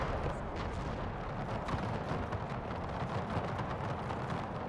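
Massed musket gunfire and artillery from a Napoleonic-era battle in the Napoleon: Total War Era mod, a dense, continuous roar of overlapping shots and booms with no clear gaps.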